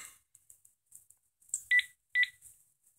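Telephone keypad dialing tones: a few soft short beeps followed by two louder distinct tone presses, isolated against near silence.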